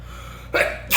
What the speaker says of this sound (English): just talking about it made me sneeze